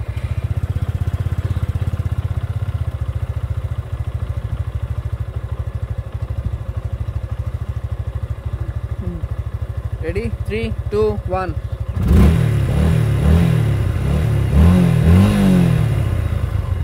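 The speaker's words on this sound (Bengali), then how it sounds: "একটু ঝেনঝেন আওয়াজ করে টাইমিং চেইনের প্রবলেমের কারণে" Motorcycle engine with a timing chain problem runs continuously with a low, throbbing drone and a faint whining edge. A voice counts down partway through, after which the engine grows slightly louder under further talk.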